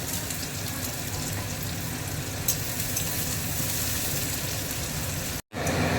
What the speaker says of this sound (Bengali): দেখুন পেঁয়াজটা লাল মতন ভাজা হয়ে গেছে